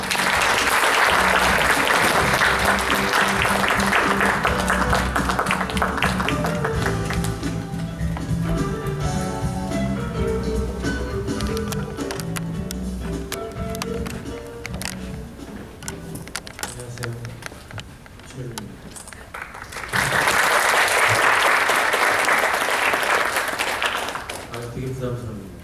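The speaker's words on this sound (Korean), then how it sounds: "표철민 대표를 박수로 모시겠습니다." Applause from a seated audience at a Korean youth talk concert, welcoming a company CEO to the stage. Steady, dense clapping fills the room, with an announcer's voice over it and a fresh loud swell near the end.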